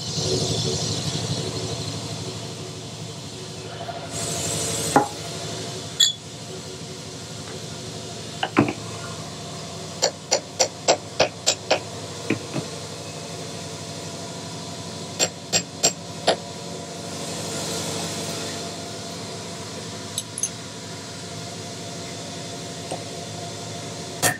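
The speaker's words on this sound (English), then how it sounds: "let's give it another calibrated smack" A hammer strikes a Harley-Davidson Ironhead flywheel assembly to true it, with sharp metallic knocks, including a fast run of about half a dozen blows and scattered single hits over a low workshop hum.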